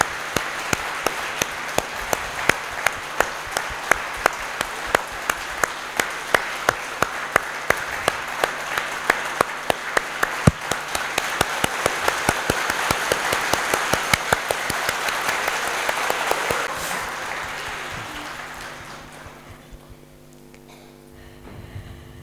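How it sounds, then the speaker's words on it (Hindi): An indoor audience at a Hindi-language inner child class claps steadily for about twenty seconds, a dense, even round of applause that fades out toward the end. "एक बार तालियों के साथ"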